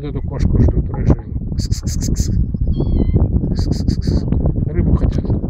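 Several cats meow repeatedly, close by and waiting to be fed fish, with their cries rising over continuous talk and outdoor noise.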